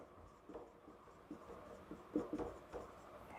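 Marker or chalk strokes on a board during an electrical engineering lecture, a series of soft, scratchy rubs in short, uneven bursts, fairly quiet and without speech.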